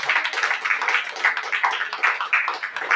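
A church congregation at a child dedication service in Assam claps together, a dense, continuous patter of many hands with a loose rhythmic pulse, fairly close and loud throughout.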